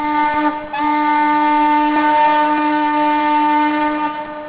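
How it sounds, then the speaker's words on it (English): A deep steam locomotive whistle from an N&W 4-8-0 in the Trainz 2019 game, one long steady chime-like blast after a brief opening note, loud and sustained before tapering off, with no talking. "but it actually is a pretty nice whistle"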